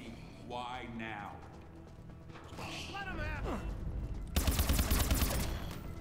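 Rapid automatic fire from a sentry gun in Advanced Warfare Zombies, a loud burst breaking in near the end after quieter game sounds and chatter, with people talking throughout.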